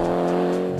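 A Nissan Skyline GTR rally car engine drones loud and close in a sustained high rev during a Queensland rally, a steady tonal roar with no break.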